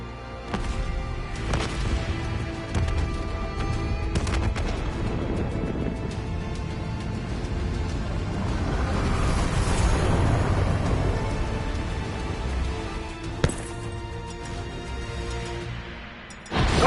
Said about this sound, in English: Hendricks, we have multiple explosions across the facility.